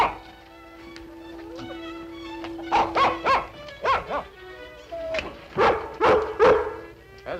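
Lassie, a cartoon dog, gives a run of short barks and yips in bursts over steady background music and a sustained tone, fairly close and moderately loud.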